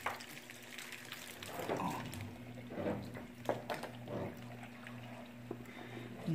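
Water from a tap trickles and splashes in small amounts while a room is rinsed during cleaning, a steady low wash with soft squishy bursts under a background hum, and someone briefly speaks.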